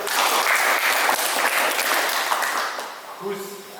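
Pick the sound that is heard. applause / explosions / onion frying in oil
applause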